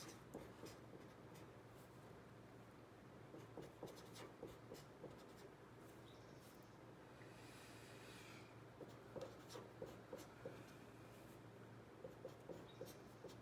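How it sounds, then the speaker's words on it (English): Steady, quiet scratching of a pen or pencil writing out a long polynomial by hand on paper during a math lesson, continuous small strokes and taps with no talking. "Let me write it down."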